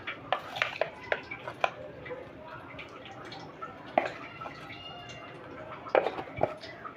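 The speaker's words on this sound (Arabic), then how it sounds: "هنحط بقى ايه؟ ميه سخنه." Hot water being poured into a cooking pot while preparing a freekeh tagine with chicken liver and gizzards: a low trickle of liquid with scattered clinks and knocks of the pot, fairly close and moderate in level.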